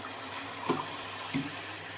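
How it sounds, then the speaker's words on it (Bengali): Hot water pours into a pot of mixed pulao with rice, meat, fish and egg, a steady rushing splash lasting throughout, with a couple of brief bumps from the vessel. "এবার আমি গরম জল দেব এক কাপ"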